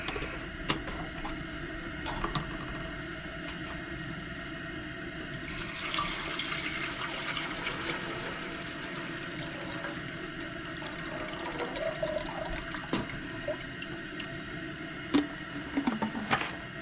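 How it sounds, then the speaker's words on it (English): Water running steadily into a Stanley camping percolator on a Coleman 425E stove, a continuous close splashing hiss lasting the whole stretch with small clinks and knocks, no talking. "Get my Stanley percolator going. Get some water put in there,"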